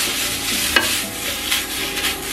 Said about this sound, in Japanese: 香りが出てきたので、ひき肉を加えていきます。 で、ひき肉がね、こまごまになるように炒めていきます。